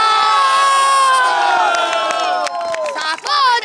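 Rally crowd in Indore cheering loudly, with shouts, whoops and cheers swelling throughout, dense harmonic voices over a continuous roar; clapping is not clearly distinct under the shouting.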